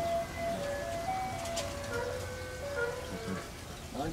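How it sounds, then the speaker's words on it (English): An ice cream truck's tinkling jingle melody playing faintly in the background as it passes, over a sizzling, crackling ambience nearby. "That's funny, you just hear this ice cream truck."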